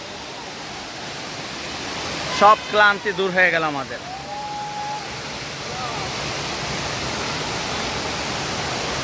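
Khoiyachra waterfall at Sitakunda, Chittagong pours with a constant broadband roar. A person speaks briefly over it partway through, and then the rushing water carries on alone.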